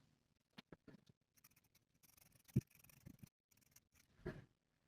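Fabric seam allowance being trimmed with sewing scissors on a culotte pants waistband, heard as a few sparse, quiet snips and light handling noises spread across an otherwise silent stretch.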